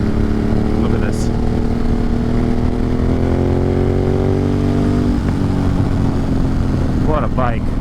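A motorcycle engine pulls hard on an evening ride through the Catskill Mountains, a loud, steady, close drone rising in pitch as it accelerates, with wind noise throughout and someone talking over it near the end.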